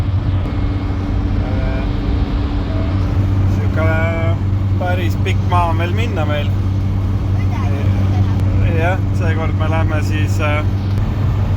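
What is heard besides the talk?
bus driving on the road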